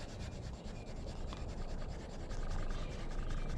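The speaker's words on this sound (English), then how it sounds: "now what we're going to do is varnish it" A brush or cloth rubs steadily over a carved wooden bushcraft spoon as varnish is worked into its knife-cut pattern, a continuous close scratchy scrubbing with no pauses.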